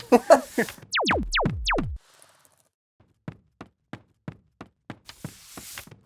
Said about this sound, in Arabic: خبط في الارض بقى.